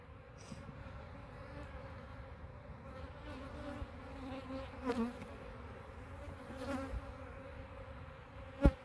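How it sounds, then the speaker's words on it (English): Honeybees from a hive storing heavy loads of honey swarm with a dense, agitated buzz that holds steady throughout, with a few individual bees zipping close past and one sharp near pass at the end. "This is my angry hive, by the way."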